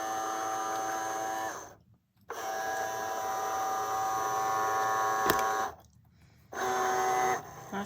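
A Cricut Joy 2 cutting machine runs with a steady whirring motor hum and high buzzing tones, broken by two brief pauses where the motor stops before resuming, quiet and close with no talking.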